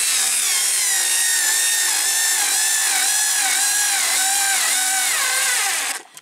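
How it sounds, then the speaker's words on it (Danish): A SKIL 2710 electric screwdriver drives screws, its motor whining loudly and continuously with wavering pitch as it strains under load, then stopping abruptly near the end. "den skal arbejde hårdt for det, for at få de her skruer her i."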